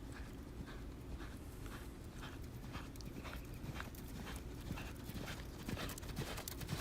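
A young filly walks on a quiet, faint background, her hooves making an even, steady clip-clop rhythm throughout.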